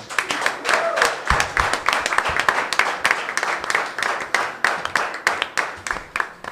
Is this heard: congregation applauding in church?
yes